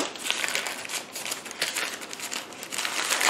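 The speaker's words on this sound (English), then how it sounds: "Sometimes this takes a little bit of time to unwrap them." Orchid shipment packaging being unwrapped and pulled free of tape: close, busy crinkling and rustling of plastic and paper with bursts of tearing, no talk.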